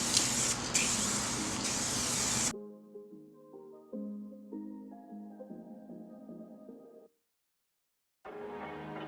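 An aerosol can sprays primer onto the front lip of a Lexus IS300 in a loud, continuous hiss lasting a couple of seconds. Music plays afterward.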